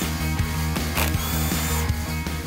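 A ratchet wrench backs out valve body bolts on a GM 700R4 automatic transmission during a rebuild, giving rapid, steady mechanical clicking throughout, close and fairly loud with brief pauses between strokes.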